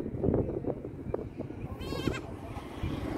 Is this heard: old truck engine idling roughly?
no